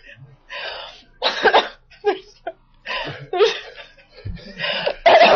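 Series of harsh, bursting coughs and throat-clearing sounds in quick irregular succession, loud and close, mixed with laughing breaths.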